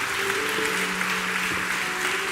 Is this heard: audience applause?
yes